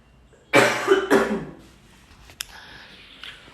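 Two loud, close coughs in quick succession from a man who is unwell, the second trailing into a rougher hack, followed by a short sharp click and faint room noise.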